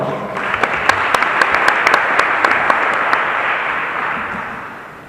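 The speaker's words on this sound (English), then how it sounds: "Please give a warm quarterback applause welcome to Tyrone Hughes" Audience applause at a New Orleans QB Club gathering welcoming former Saints star Tyrone Hughes: a dense, steady wash of clapping from a room full of people, with a few louder individual claps standing out, tapering slightly at the end.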